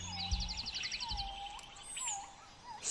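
Birds sing outdoors in repeated clear whistled calls and a rapid trilling chirp sequence, moderately near, over low background noise with a few faint thumps.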